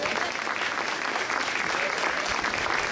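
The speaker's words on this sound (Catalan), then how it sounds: "Un aplaudiment per aquest relleu que tenim" Audience at a traditional Catalan caramelles choir gathering in Casserres gives a sustained round of applause, a dense, even clapping that carries without talk.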